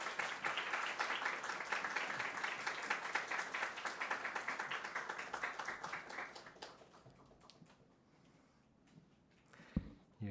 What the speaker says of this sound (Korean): 수여할 때 박수를 함께 해주시면 감사하겠습니다